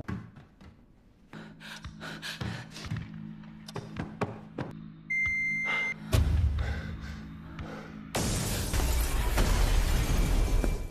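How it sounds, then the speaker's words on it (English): Glass bursting apart in a Squid Game episode: a series of sharp shattering bursts and thuds over a low sustained tone, building to a loud, dense crash near the end, with no talking. "After they successfully complete the challenge, you send exploding glass their way."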